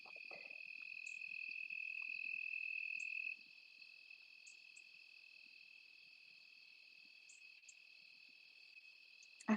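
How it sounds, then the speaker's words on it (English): Steady, continuous cricket chirping fills a quiet evening, a high trilling drone with faint occasional higher chirps, no voices. "It's evening time here where I'm from, so you'll hear the crickets"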